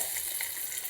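Green chillies and onion pieces fry in a pan, giving a faint, steady sizzling hiss close by with no other sounds.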